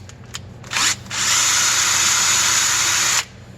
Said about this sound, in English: It's aluminum, so it drills easy. Drill it straight.